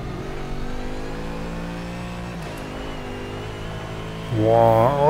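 A BMW race car engine drones at a steady pitch on the Nürburgring Nordschleife in the Project Cars racing game, then revs up sharply near the end. It stays loud and continuous throughout, with no speech.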